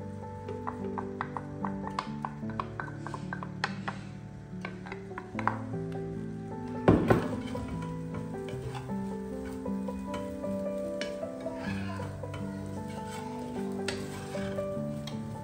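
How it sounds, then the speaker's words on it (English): Ground beef with onions and butter sizzles in a pan while a utensil scrapes and stirs it, producing steady close frying hiss with intermittent scraping clacks and one louder knock midway. "Then I add onions to ground beef and some more butter, salt and pepper and stir a little bit more."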